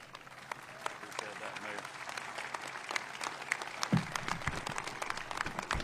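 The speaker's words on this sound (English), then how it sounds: "give a rousing round of applause for the 83rd governor of the state of Georgia, Governor Brian Kemp." Applause for the governor of Georgia at an outdoor ribbon cutting for a new public safety training center, steady crowd clapping with a few sharp claps standing out and voices mixed in.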